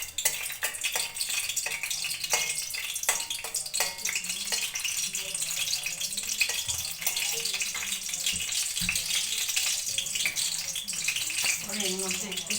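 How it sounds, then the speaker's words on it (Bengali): Cardamom pods and cloves fry in hot oil for shahi paneer, giving a loud, continuous, close sizzle and crackle with light stirring throughout. A faint voice is briefly heard near the end. "এই এলাচ আর লংটাকে একটু ভালো করে ভেজে নেব।"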